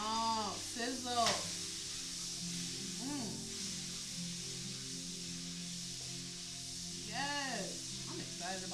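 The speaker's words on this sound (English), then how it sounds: "Oh, sizzle." Bacon and lemon butter sizzle in a hot pan with a steady, close crackling hiss throughout, while voices briefly chime in over the frying.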